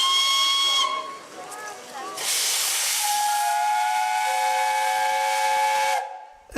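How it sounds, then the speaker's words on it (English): Steam whistle sounds from LNER Peppercorn A1 locomotive 60163 Tornado, built at Darlington in 2008: a loud, sustained multi-tone whistle blast with strong steam hiss, a shorter whistle toot first, then a long held whistle that cuts off abruptly. "number 60163 Tornado, the most modern of steam locomotives, built at Darlington and completed in 2008"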